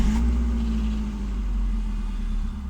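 A car's engine, being checked for a faulty boost gauge, settles into a loud, steady, low rumbling idle at close range. A faint click comes near the start, and no one speaks.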